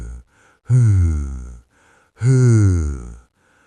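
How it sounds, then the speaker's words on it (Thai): Two slow, deep, heavy breaths close up, each a long drawn-out exhale with a rough, groaning edge, separated by quiet pauses. "เสียงหายใจหอบช้าช้า ลึกๆเหมือนคนกำลังยืนอยู่ใกล้มาก"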